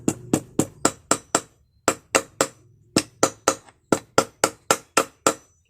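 Sharp metallic taps drive an oil seal into a motorcycle engine case during an engine build. The blows come in quick, evenly spaced bursts of three to five with short pauses between groups, close and loud in a quiet workshop.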